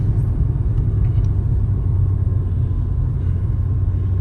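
A car cruising along a road between Mooloolah and Landsborough, heard from inside as a loud, steady low engine and road rumble that holds constant throughout with no talk.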